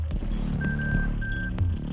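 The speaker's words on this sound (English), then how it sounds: "Rushes from speedy attackers, pushes from big shieldy boys, and sneaky flanks from the elusive Nook all make the Banshee hum with delight." Banshee gadget from a video game giving off a thin steady electronic hum, two brief sustained tones with a short gap between them, over a low busy background.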